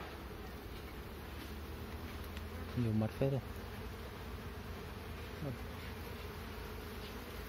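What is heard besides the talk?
honeybees buzzing around a hive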